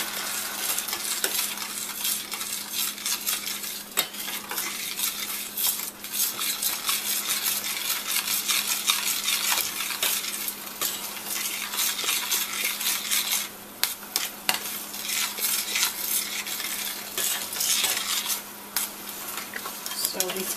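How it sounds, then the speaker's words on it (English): Onions with lemon juice are scraped and stirred in a pan, a continuous quiet sizzle broken by frequent sharp utensil scrapes and clicks against the pan surface. "So we're scraping all these little tasty bits underneath that we have."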